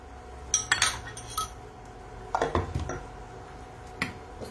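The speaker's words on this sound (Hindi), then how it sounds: "तो यहाँ एक मिक्सर ग्राइंडर जार में सबसे पहले मैं इमली डाल दूंगी" Tamarind going into a mixer grinder jar while chutney is made, heard as a few quick clinks and clatters of food and utensils against the jar, with short bursts and quiet gaps between them.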